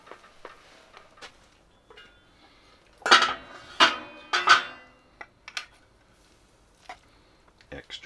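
Knife slicing steak on a plate at a tent campsite, several sharp scraping clinks of metal on dish in a short cluster, fairly close, with softer taps around them in a quiet setting.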